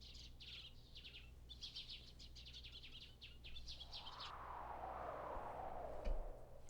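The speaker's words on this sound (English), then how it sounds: "You hear the birds chirping in my headphones." Faint bird chirps leaking from a pair of headphones: a run of quick, high twitters for about four seconds, then a steady hiss over a low hum.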